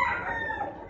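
A rooster of the Thai-American asil type gives a short, close crow that trails off into a clucking tone, one brief call with no speech.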